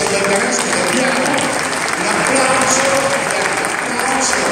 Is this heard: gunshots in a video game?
no